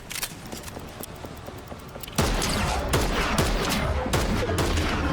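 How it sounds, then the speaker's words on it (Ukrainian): Rapid bursts of gunfire from the Fortnite video game, sparse shots at first, then a louder, denser stretch of sharp cracks and automatic fire, with no voices. "Нормальненько так постріляли."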